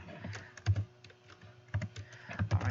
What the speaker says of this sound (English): I'm using my keyboard since I have it connected